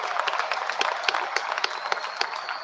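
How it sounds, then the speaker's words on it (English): A commencement ceremony crowd applauds honored students, a brisk, dense patter of many hands with distinct individual claps standing out, steady throughout. "Please give them a round of applause."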